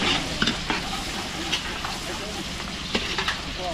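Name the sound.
garlic and onion sautéing for pancit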